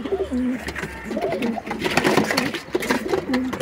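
Several red-eyed golden pigeons coo repeatedly in soft, rolling calls, close by, with flapping and rustling noises mixed in.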